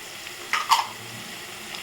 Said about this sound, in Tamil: தக்காளி பழத்தை சேர்த்து நல்லா வதக்கிக்கோங்க